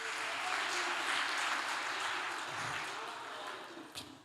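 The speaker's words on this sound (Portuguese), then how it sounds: "Dê uma salva de palmas ao Senhor." During a missionary conference service, a church congregation applauds the Lord, a broad, steady roar of clapping that fades gradually toward the end, with voices mixed in.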